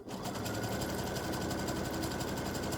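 A machine embroidery sewing machine stitches down the crossover pieces of freestanding lace butterfly earrings on wash-away stabilizer, a fast steady mechanical whirr that runs loud and unbroken throughout, with no talk.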